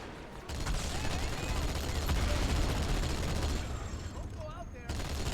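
Continuous rapid gunfire in Halo 2 Anniversary rattles in a steady dense stream, with a player's voice talking over it.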